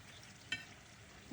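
Leftover pieces of dough fry in oil, sizzling steadily with a soft crackling hiss, a single sharper pop midway, close and fairly quiet with no voices.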